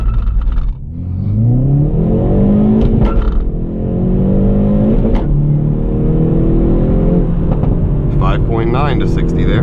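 A 2019 Hyundai Veloster N with a manual gearbox launched hard for a 0-60 run, its engine revving up and climbing in pitch through the gears, loud and close, with a voice talking over it.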